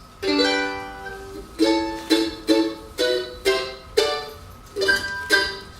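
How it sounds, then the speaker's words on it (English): An F-hole mandolin being picked, a brief strummed run followed by evenly spaced bright chords, each ringing and decaying before the next, close and clear with no talking. "That's the sound of an F-hole mandolin."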